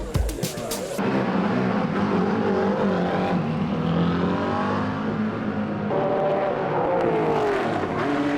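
Porsche race cars circling the track at Silverstone during an enthusiast event, engines revving and whining loudly as they pass, pitch rising and falling continuously.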